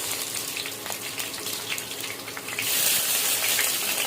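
Whole spices and onions frying in hot oil for beef biryani, a loud continuous sizzle that swells even louder partway through.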